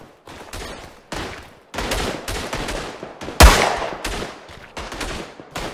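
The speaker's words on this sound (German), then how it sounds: "Ah, der Schuss galt mir." Gunfire in the World War I shooter game Tannenberg, with a rapid series of loud close shots and one especially sharp blast midway, each trailing off into a reverberant echo.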